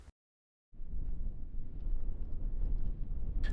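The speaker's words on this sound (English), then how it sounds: "Wow, is it windy up here?" Strong wind buffets the microphone on a mountain top, a loud continuous low roar and rumble after a brief silent gap, with no talk.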